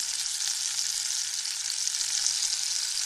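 Swiss cube steak cooks in a pan with canned tomatoes, giving a bright, steady, close sizzle and crackle that holds evenly throughout with no talking.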